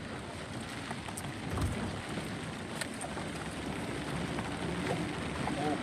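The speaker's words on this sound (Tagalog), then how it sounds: "Mabuti at hindi lumakas yung ulan." Light rain falls steadily as a broad, even hiss during net fishing outdoors after a typhoon, with some wind noise and no one talking.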